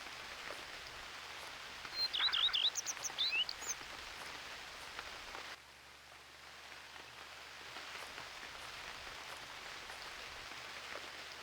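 Steady rain hisses down in the video game UnReal World, an even soft wash that runs through the whole stretch, with a short chirpy bird call near the start.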